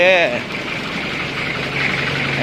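A used single-cab Nissan pickup truck engine rises briefly, then settles into a steady, rough drone with voices murmuring underneath.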